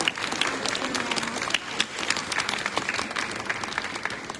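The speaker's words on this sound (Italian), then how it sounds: "Un applauso per la maestra Lucia." An audience gathered at a museum cloister in Mestre for a children's drawing exhibition applauds a primary school teacher, a dense continuous wash of clapping from a crowd with faint voices mixed in.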